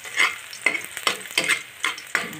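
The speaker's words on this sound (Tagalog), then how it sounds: "Gisa muna tayo sa ating catsup." Canned sardines sautéing in ketchup in a pan, a steady close sizzle broken by repeated stirring scrapes at a quick, uneven rhythm, with no voices.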